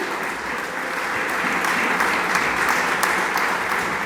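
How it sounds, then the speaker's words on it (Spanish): Sustained applause from a church congregation during a sermon, many hands clapping in a thick, even roar that swells slightly and holds steady. "Esas palmas son para Él"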